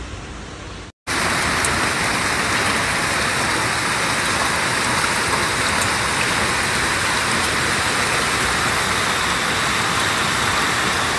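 Heavy rain and hail pound steadily on Paris streets and sidewalks in a dense, loud, unbroken roar after a brief cut at the start, with no talking.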